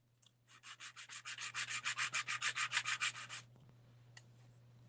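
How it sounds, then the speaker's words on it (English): Sandpaper rubs back and forth along the edge of ABS styrene plastic on a workbench, about fifteen quick rhythmic scraping strokes close to the mic, then a faint tap after they stop. "now I've got a piece of sandpaper here. I can take off that bottom edge"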